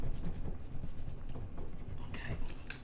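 An erasable pen scratches across paper in short, close strokes, a soft scraping rhythm with faint murmured speech alongside.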